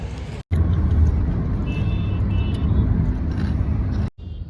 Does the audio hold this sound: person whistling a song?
no